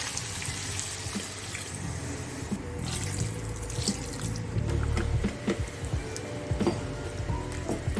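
Water is poured into a cooking pot while making a Tulu-style uppad pachil (salted jackfruit) dish, a steady splashing flow heard at low volume with no talk.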